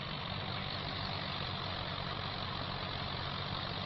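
Steady loud drone of a tractor engine running in Farming Simulator 25, an unbroken low rumble with no change in pitch or rhythm and no talking.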